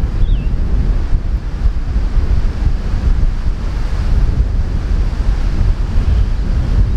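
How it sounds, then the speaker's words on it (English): Strong wind blows across a hilltop during a morning ride, a loud, steady roar with heavy buffeting rumble against the microphone and no pauses. "It's windy when I'm up here."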